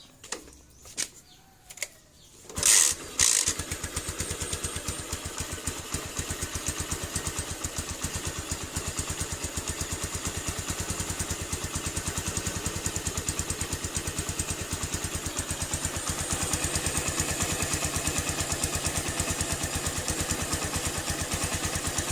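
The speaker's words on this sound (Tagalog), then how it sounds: "Papaandarin natin yung motor para umikot yung bagong oil." A Keeway Cafe Racer 152 motorcycle engine, freshly rebuilt after maintenance, cranks over after a few clicks and fires up. It settles into a close, steady, rapid idle that runs on evenly.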